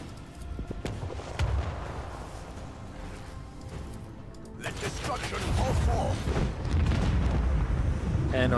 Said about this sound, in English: the explosion hits the other ship, which is great